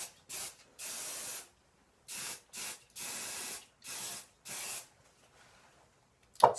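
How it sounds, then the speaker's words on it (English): Hairspray is sprayed onto hair being styled into victory rolls with a pincurl, in about seven short hissing bursts with brief pauses between them, close and clear with no talk. "at this point, you just want to spray"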